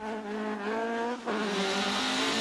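A Mark II rally car engine on a rally stage in County Mayo revs hard and steadily, dropping briefly as if shifting gear, then roaring on at high revs; loud and close, no voices.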